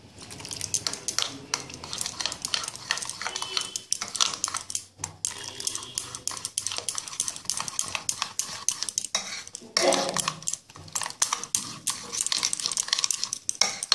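Spoon stirring water into thick boiled yogurt in a pot, a continuous scraping and clinking of metal against the pot with small liquid sloshes, fairly steady with brief pauses, close and moderately quiet, no talking.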